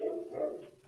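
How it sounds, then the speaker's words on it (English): Dogs barking indoors, one short burst of barks running the length of the moment, fairly near and moderately loud, with no talk over it. "Sorry about the dogs."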